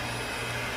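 An electric hand mixer beats cake batter for a keto pumpkin crumb cake, giving a brief steady motor whine at constant loudness with no talking.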